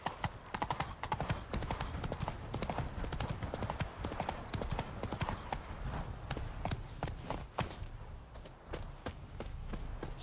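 Roach, a horse in The Witcher 3 video game, gallops with steady rapid clip-clop hoofbeats, loud and close, over game background ambience and music throughout.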